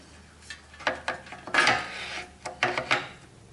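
Metal cradle of an SEC E9 key cutting machine being slid into place and tightened, a series of close clicks, scrapes and ratcheting clanks, no speech.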